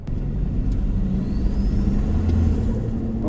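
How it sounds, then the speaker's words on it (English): A Toyota Land Cruiser engine rumbles loudly and close while accelerating, with a faint rising turbo whistle climbing above the roar partway through. "You can hear the turbo."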